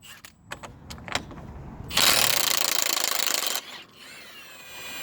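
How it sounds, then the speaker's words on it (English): A Milwaukee impact wrench removing a ball joint nut on a 2002 Jeep Liberty, a loud rattling burst of about a second and a half after a few light clicks, close and without talk. "I am using my Milwaukee impact wrench. Took it off very easily."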